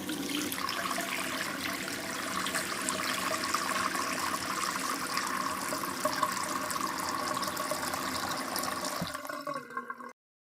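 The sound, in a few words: water being poured into a cooking pot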